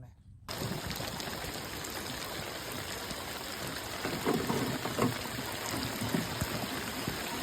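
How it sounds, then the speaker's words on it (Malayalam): Heavy rain falling steadily outdoors during a traditional ring-net crab-catching outing, a dense continuous wash of drops that swells slightly louder toward the end. "ഭയങ്കര മഴയാണ്"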